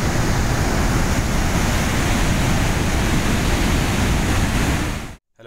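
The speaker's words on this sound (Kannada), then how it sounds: "ಒಳಗಡೆ ಇನ್ಲೆಟ್ ನೀರು ಹೆಂಗೆ ಚಿಮ್ತಾ ಇದೆ ನೋಡಿ ಫ್ರೆಂಡ್ಸ್, ಸಖತ್ತು ಚಿಮ್ತಾ ಇದೆ." Water gushing hard through the inlet of the Bhadra Dam, a loud, steady, dense roar close by that runs unbroken before cutting off abruptly at the end.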